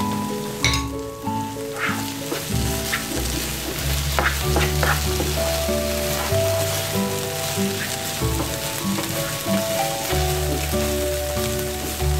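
Carrot halwa stirred in a pan after a spoonful of ghee goes in, a soft steady sizzle and scraping under continuous background music with no talk.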